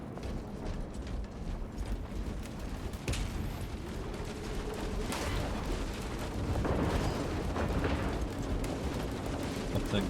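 Bolt thrower firing in the Warhammer 40,000: Space Marine 2 video game, a busy battle mix of mechanical clanks, sharp impacts and rumbling blasts layered over dense, continuous combat noise.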